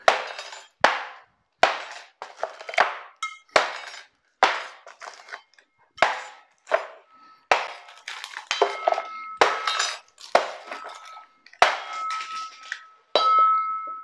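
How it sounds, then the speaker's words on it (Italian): A gas canister is slammed again and again onto a 3D-printed plastic graphics card model. Around fifteen loud, close, sharp cracking blows fall in an uneven rhythm, with brittle clinks and rattling pieces between strikes. "Prendo la cazzo de bombola del gas e la tricolo"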